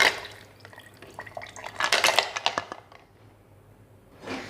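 Ice cubes drop into a chocolate biscuit milkshake mixture with a quick cluster of sharp cracks and clinks, followed by a quieter pause and one last rattle at the end.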